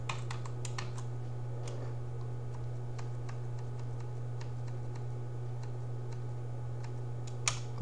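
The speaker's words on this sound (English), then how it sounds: "here we can go down and type the Wi-Fi password" Computer keyboard typing while entering a Wi-Fi password: irregular light key clicks in short runs over a steady low hum, close and quiet, with one sharper clack near the end.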